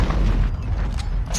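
Deep, rumbling grenade boom in the video game Call of Duty Modern Warfare Ground War, loud and close, filling the whole brief moment with low-end roar.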